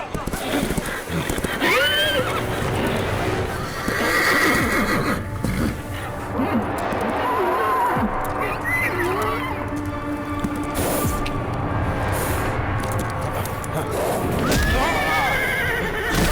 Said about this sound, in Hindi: पहले जाके अपने बेकाबू हुए घोड़े को कंट्रोल करो।